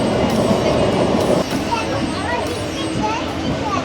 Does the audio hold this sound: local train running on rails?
yes